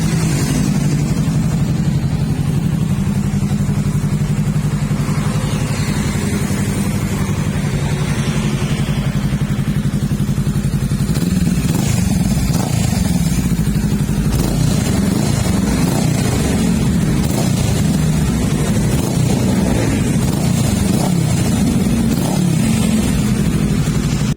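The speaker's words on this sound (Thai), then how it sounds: "ฟังเสียงเครื่องยนต์ครับ" A 2017 Honda Rebel 500 motorcycle with 33,000 km and a stock engine runs at a steady idle, a loud, close, continuous low rumble with slight variations in throttle.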